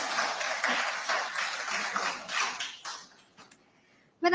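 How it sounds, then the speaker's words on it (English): An audience at a business conclave applauds a speaker, the dense clapping strong at first, then thinning and fading out over several seconds until a few scattered claps remain. "Big round of applause, ladies and gentlemen."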